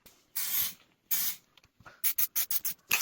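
Aerosol spray paint being applied as a second coat to a Ford Focus ST170 wheel, heard as close, hissing bursts, two longer passes followed by a quick run of short, rhythmic sprays.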